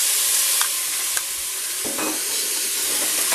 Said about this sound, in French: la carbonate de bœuf qui est en train de dorer